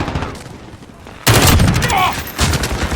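Kilo 141 assault rifle fire during a Call of Duty: Modern Warfare team deathmatch: quiet game ambience, then a loud sustained burst of automatic gunfire that continues with dense, rapid shots to the end.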